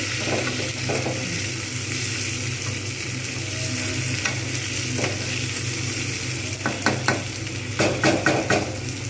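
Mung dal frying with spices in a pan, a continuous close sizzle with a spoon stirring and scraping and a few sharper clinks near the end, with no one speaking.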